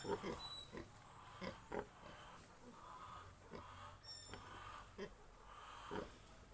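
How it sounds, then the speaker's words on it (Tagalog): A pet pig kept at a rural home gives repeated short grunts and snorts close by, while a person talks over the sounds. "may alaga pa siyang baboy"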